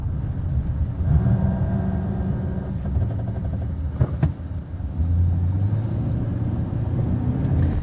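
A Chevy creeps along below about 10 mph as the ABS kicks in, a low grinding rumble from the brakes rising and falling under steady road and engine noise, with a brief sharp clack near the middle.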